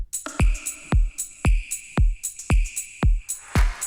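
An electronic drum loop with a snare added, where regular booming kicks alternate with crisp snare and clap hits and a sustained tone runs through the pattern, steady and loud with no voices.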